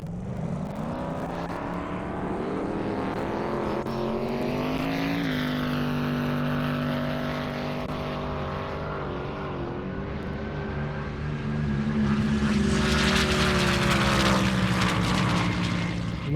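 A white C7 Corvette race car, the fastest of its kind, roars down an airstrip on a high-speed run at an airstrip attack event, its engine loud and sustained with rising pitch, swelling louder near the end.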